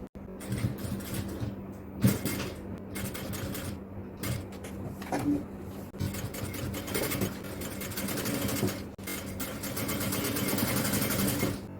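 Close sewing machine stitching the neck of an XL-size jalabiya in short start-and-stop runs, its rapid mechanical whir rising and pausing as the fabric is guided bit by bit.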